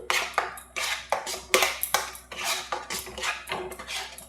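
Repeated scraping and clinking of a spoon against a pan while mango sweet is stirred with powdered milk (Amul), an irregular series of close metallic knocks and scrapes with no talk.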